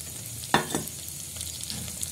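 Potatoes and cauliflower fry in oil with prepared fenugreek, giving a steady close sizzle broken by a couple of sharp stirring scrapes near the start.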